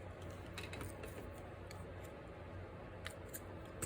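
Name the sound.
small scissors being picked up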